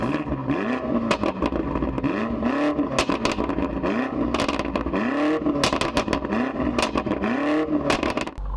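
A 2021 BMW M5 Competition with the M Performance exhaust revs loudly and repeatedly, its engine note rising and falling in rhythmic surges punctuated by crackles and pops, close and without talk.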